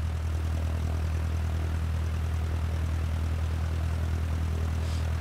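A simulated Cessna 152 piston engine in Microsoft Flight Simulator idles with a steady, deep propeller drone, constant and fairly loud the whole time with no voices.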